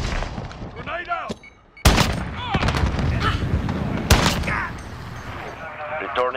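Chopper gunner gunfire in Call of Duty multiplayer, rapid heavy shots and sharp booms mixed with other game effects and radio-style voices, close and loud throughout.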